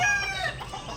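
Chickens on a farm cluck and a rooster calls briefly, close by, with no talking.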